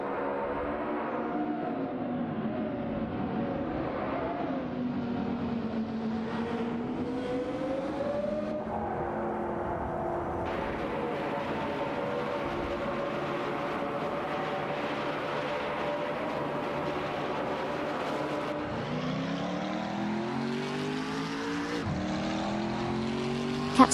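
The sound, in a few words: video game race cars, Lamborghini Sian and Koenigsegg Agera RS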